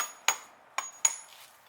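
Three sharp metallic taps of a hammer on a 36 mm socket, driving in a front pump seal on a TH350 transmission from a 1978 Chevy van; the strikes are close, spaced unevenly and ring briefly.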